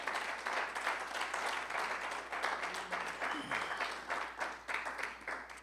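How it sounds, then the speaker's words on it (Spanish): Church congregation at a Spanish-language service clapping together as an offering of praise, steady dense applause throughout, with voices mixed in. "Y una ofrenda de palmas al Señor."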